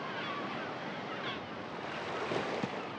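Surf rolling onto the Black Sea coast, a steady broadband wash of breaking waves with wind noise over the microphone, continuous and fairly close, no voices.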